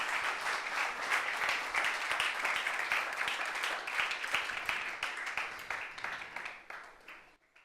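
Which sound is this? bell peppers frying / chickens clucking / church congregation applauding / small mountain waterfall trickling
church congregation applauding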